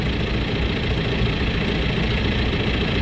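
A truck's drum slip clutch slipping while the drum fails to turn, heard as a steady, loud mechanical grinding drone with a low engine rumble underneath, continuous and close.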